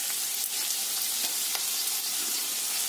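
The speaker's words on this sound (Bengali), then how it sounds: "সাদা তেল দিয়ে পেঁয়াজটা দিয়ে ভেজে নিলাম।" Onions fry in white oil in a pan, giving a dense, loud, continuous hiss with a few soft stirring ticks and no voices.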